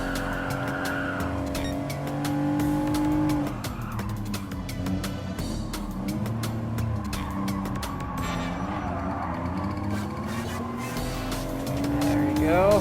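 A twin-turbo Nissan Fairlady Z 300ZX racing in Gran Turismo Sport, with a loud, steady engine drone rising and falling in pitch through gear changes and continuous tire squeal, and no talk.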